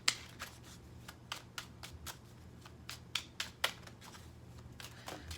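Tarot cards from an Infinite Tarot deck being shuffled by hand, soft rapid riffles and sharp slaps in an irregular rhythm, close and quiet, with no talking.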